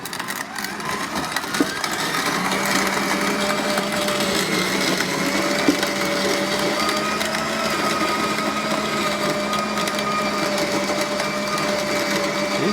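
An electric grain mill grinds corn with a steady, continuous mechanical drone and crunch that holds at an even level from start to finish, with no voices over it.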